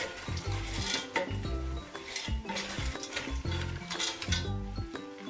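Dry pasta is stirred and toasted in a pot, giving a constant dry rattling sizzle with repeated scraping and clinking of a spoon against metal, close and steady throughout.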